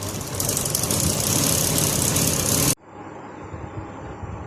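Sewing machine running steadily while stitching a half-inch turned fabric edge on a ladies' trouser waistband, a loud continuous motor whir that cuts off abruptly partway through, leaving faint room noise.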